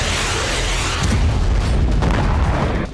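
Shelling on the Donetsk battlefield during the Russia–Ukraine war: a continuous, loud rumble of explosions and booms, dense and low, with no talk over it.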